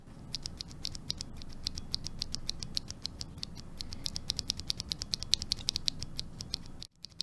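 A stock Cherry MX Black Hyperglide keyboard switch is pressed repeatedly up close, giving a steady run of crisp plastic clacks at a quick, even pace with no talking.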